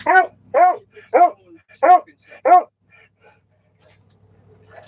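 A female pet dog barks five times in a steady rhythm, close and loud, then falls quiet.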